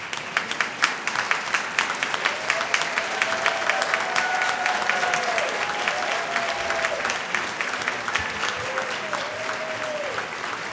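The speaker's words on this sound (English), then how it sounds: "People, give them a round of applause for the hard work they do for a little money." An audience at a swearing-in ceremony claps steadily in a large room, sustained applause filling the space for about ten seconds at a moderate level with no one talking over it.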